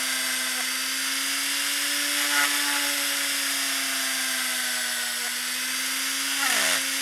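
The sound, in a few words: electric drill hollowing an eye socket in polymer clay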